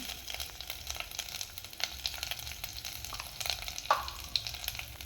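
Curry leaves and turmeric sizzle in hot oil in a pan for a beetroot chutney tempering, with a steady close crackle and a few sharper pops.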